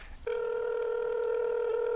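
A steady telephone tone, likely a dial tone or dialing signal, starts abruptly after a brief quiet moment and holds continuously at an even level with no talk over it.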